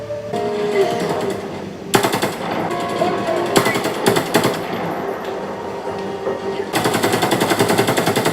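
Rapid automatic gunfire and explosive bursts from the video game Helldivers 2, dense and loud, with stuttering volleys and a sustained rattling barrage near the end.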